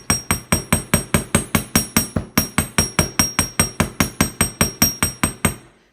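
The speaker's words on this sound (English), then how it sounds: "So I hammer for 2 reasons." Steady hammer blows ring out on copper wire, about twenty-five sharp strikes at a brisk even rhythm with a brief pause partway, close and loud.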